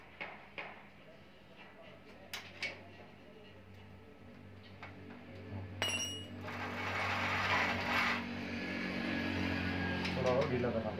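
Metal ratcheting clicks and clanks come from a spanner working on the chain of a motorized bicycle, sparse near taps at first, then denser mechanical rattling with someone speaking over it.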